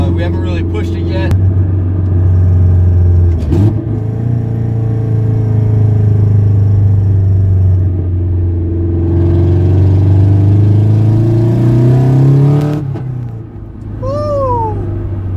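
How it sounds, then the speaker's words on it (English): Mazda Miata with a custom short ram intake, driving with a steady low engine and exhaust drone that climbs in pitch as it accelerates, heard from inside the car under occasional talk. "you can definitely hear the exhaust a little more"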